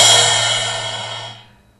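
A 12-inch splash cymbal rings out close by, its bright shimmering wash fading steadily to silence in under two seconds.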